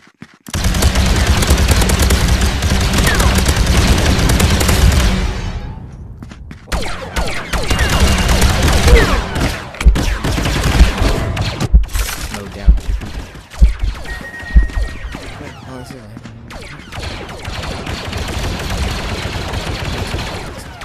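Rapid blaster gunfire from the Star Wars Battlefront VR game rattles off in long, dense bursts with short pauses between volleys, loud and close throughout.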